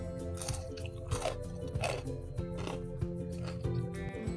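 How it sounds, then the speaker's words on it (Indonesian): Crispy fried vegetable fritters (bakwan sayur) are bitten and chewed close up, giving a series of sharp crunches about every second, quiet and without any talk over a low background hum. "suaranya renyah banget teman-teman, kriuk banget"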